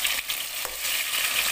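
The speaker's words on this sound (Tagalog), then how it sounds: "Prito muna natin yung kamote." Steady, bright sizzling of sweet potato frying in hot oil, with a few sharper crackles and pops throughout.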